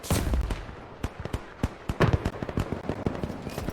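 Rocket launcher fire in a Roblox Iron Man simulator game, a rapid series of sharp bursts and booms of uneven loudness, some clustered close together.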